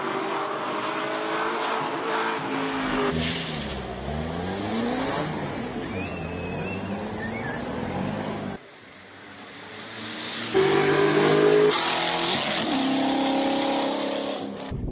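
A rear-wheel-drive BMW Z4 with a swapped LS V8 engine races up a hillclimb course at Cape Town's Speed Classic King of the Mountain event. Its deep, loud engine roar climbs through the revs, dips at a gear change, then surges back even harder.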